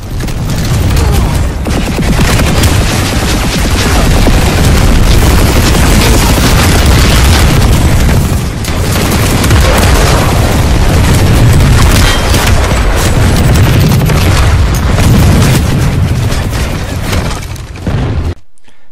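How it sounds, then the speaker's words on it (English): Loud, dense automatic fire from the MSW-R light machine gun in the Planetside 2 video game, at 750 rounds per minute. The rapid bursts run almost without a break for most of the stretch, with booming impacts mixed in. "the MSW-R is geared for a close quarters role. It has a fire rate of 750 rounds per minute."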